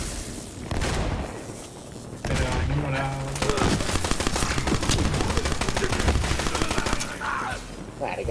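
Rapid bursts of Borderlands 3 gunfire, loud and sustained, with fast automatic volleys and single shots continuing through most of the stretch.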